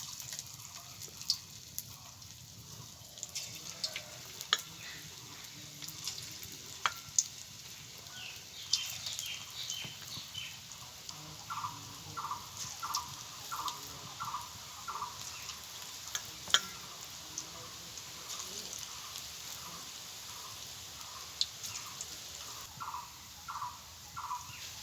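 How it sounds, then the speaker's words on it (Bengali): Freshly picked leaf pakoras deep-fry in hot oil with a faint, steady bubbling sizzle, joined by scattered light clinks and pops, with a rhythmic chirping sound in the background; no talking. "এখন আমি পকোড়াগুলোকে ভেজে নেব।"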